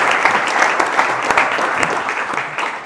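Audience applause at a Spanish business panel event as speakers are introduced, a dense, steady clapping from a full room lasting throughout, loud and close with no talk over it.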